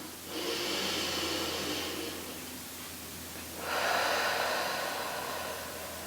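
Two long, deep breaths taken during a core and pelvic floor exercise, each a broad airy rush lasting a couple of seconds, close and clear with a short quiet gap between them.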